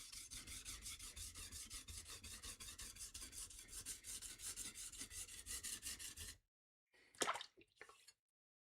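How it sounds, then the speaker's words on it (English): Steel blade bevel ground on a 400 grit sharpening stone, a fast rhythmic rasp of back-and-forth strokes for about six seconds, then silence and a few wet, faint scrapes. "I need to go slowly on it and grind a little bit around so I can finally reach it."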